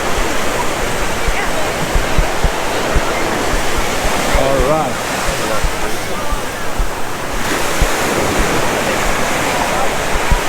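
Ocean surf at Waikiki Beach in Hawaii, a steady broad wash of waves rolling onto sand with some wind, someone briefly speaking over it.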